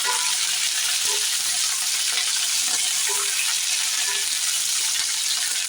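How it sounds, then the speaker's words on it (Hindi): Okra frying and sizzling in a pan during Indian home cooking, with a steady dense hiss throughout and soft clinks and scrapes of stirring, close and fairly loud with no talking. "अब इसमें हम भिंडी को डाल देते हैं। अब इसे हम धीरे से चलाएंगे"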